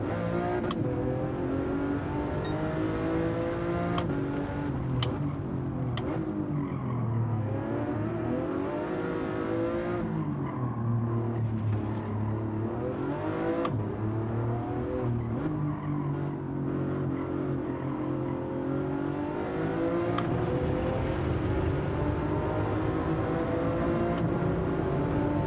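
Race car engines roar continuously in a racing video game, with revving, pitch sweeps and gear changes layered over a sustained loud drone, occasional tyre squeal and no speech throughout.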